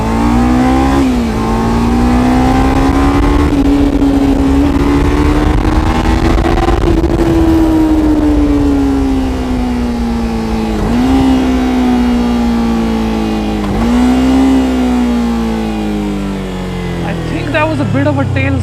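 A Kawasaki Ninja 300 sport motorcycle pulls hard at full throttle, its loud engine note climbing through the revs with several dips where gears shift, recorded close from the rider's position.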